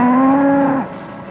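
A single cow gives one loud, close moo lasting nearly a second, a steady tonal low that drops off abruptly into quiet background.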